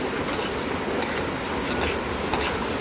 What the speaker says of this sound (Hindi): इसे हमें चलाते रहना है ताकि ये अच्छी तरह से अंदर से भी फ्राई हो जाए।